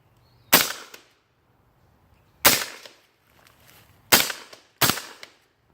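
A suppressed UMP 45 fires four separate sharp shots at uneven intervals, each a loud close crack that decays quickly, with near silence between them.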